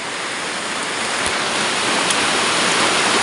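Steady rain falls outdoors in a continuous, dense hiss, even and loud throughout with no voices.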